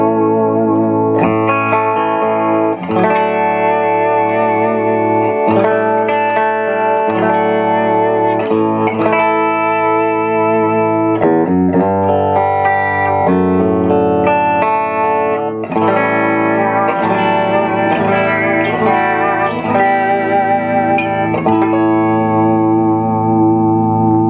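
A Paul Reed Smith 58/15 Custom 24 electric guitar on its bridge humbucker, clean setting with reverb and chorus-like shimmer, plays a steady flow of chords and arpeggiated notes, loud and close with no talking.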